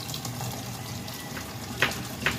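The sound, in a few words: a little water poured in while cooking bamboo shoot stew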